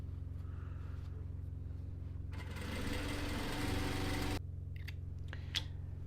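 A sewing machine stitches a blouse hem in a short, fast whirring burst lasting about two seconds over a steady low motor hum, with faint clicks before and after.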